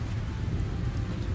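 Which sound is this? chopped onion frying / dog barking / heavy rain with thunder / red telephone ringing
heavy rain with thunder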